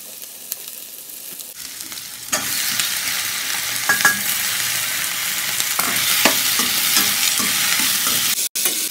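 Tomatoes added to half-softened onions in a kadai for a quail egg gravy bring a quieter hiss that jumps into a loud, steady sizzle. It carries on with intermittent stirring scrapes and clicks, close and without talk.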